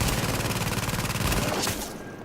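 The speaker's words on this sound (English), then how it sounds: "My auto cannon is really helping me" Rapid, sustained auto cannon fire in Tom Clancy's The Division on PS4, loud, close and continuous, with dense rhythmic bursts that cut off abruptly near the end.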